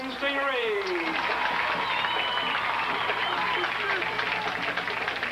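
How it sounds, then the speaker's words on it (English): A crowd at a 1996 high school football game between Texas City and Lamar Consolidated roars and applauds continuously, loud and sustained with dense clapping and cheering throughout. "As Mr. Duckett announces and the crowd reacts."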